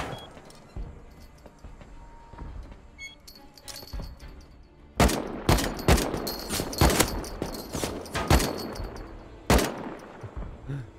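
Bursts of gunfire in the online survival game Rust, rapid loud volleys of shots and fusillades coming in clusters over a quieter stretch of game ambience, with no talk.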